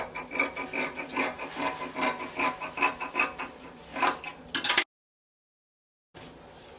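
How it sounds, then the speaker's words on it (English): Scissors cutting through Ankara print fabric make a rapid run of rasping snips, close and fairly loud, before cutting off into a short silence. "I will go ahead and cut it like so."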